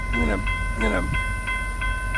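A freight train pulls in, giving off a steady tonal ringing over a low rumble, with a short burst of voice near the start.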